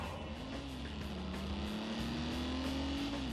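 Alfa Romeo car engine in The Grand Tour racing video game, a steady droning hum held at constant pitch, rising and dipping slightly, continuous and fairly loud throughout without talk.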